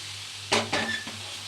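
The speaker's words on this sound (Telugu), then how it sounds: "ఇప్పుడు ఇంకో దోశ వేసుకుందాము" Chickpea dosa batter poured onto a hot oiled pan, a short soft sizzle and hiss with a couple of quick stirring scrapes, alone and fairly quiet.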